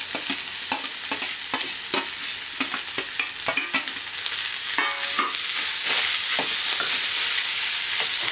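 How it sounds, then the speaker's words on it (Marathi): Potatoes tossed into spices frying in a pan for misal pav, with a run of quick scraping stirs and clacks over sizzling oil that grows into a steadier, louder sizzle, no speech. "आपण यात घालूया बटाटा"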